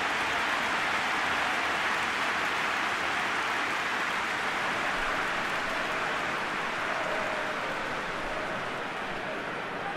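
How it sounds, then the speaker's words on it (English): Rain falls steadily in a PES 2021 football match, a constant, fairly loud hiss of downpour with no breaks, alone without talk. "Rain starting to fall here."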